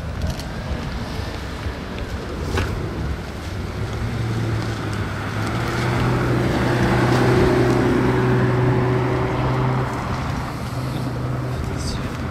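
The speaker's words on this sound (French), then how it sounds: "Le bruit du V12 là, le doux bruit du V12" A deep Mercedes S65 AMG convertible V12 engine rumble swells and fades outdoors under heavy wind buffeting, with faint voices and traffic noise in the background.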